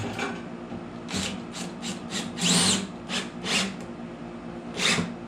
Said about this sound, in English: I found these concrete bolts, anchor screws. And I'm just gonna secure the 4 legs.